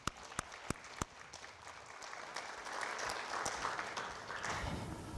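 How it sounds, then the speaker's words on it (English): A university audience gives a round of applause at a State of the University address, a few sharp early claps swelling into steady, full clapping from a large room. "May we have a round of applause for that group as well."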